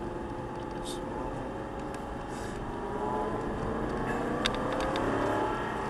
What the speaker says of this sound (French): On sent la voiture qui bondit.